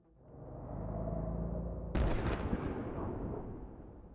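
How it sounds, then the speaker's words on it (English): A distant explosion in the Girls' Frontline video game: a low rumble swells and then a sharp boom hits midway, rolling away like thunder as the sound fades. "explosion can be heard in the distance like a thunderclap through the channel."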